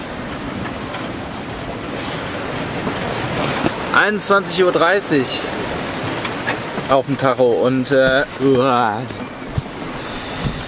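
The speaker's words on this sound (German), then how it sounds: "der Wind hat entgegen der Vorhersage mal wieder irgendwie zwischenzeitlich sehr zugenommen" Strong wind and breaking waves at sea aboard a single-handed sailboat in the English Channel at night, a constant loud rush of wind and water with surging splashes, while someone speaks over it.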